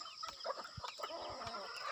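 Chickens and young chicks on a small farm cluck and peep during morning feeding, a faint, busy chorus of short calls close together with no talk over them.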